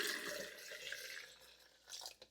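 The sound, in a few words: pouring three cups of water for a lemon drink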